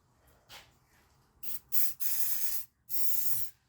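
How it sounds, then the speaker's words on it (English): Pure silicone sprayed from an aerosol can onto a cleaned Honda inner CV shaft, heard as several short bursts of hiss, the last two longer, close and alone. "I'm just gonna spray some pure silicone on it."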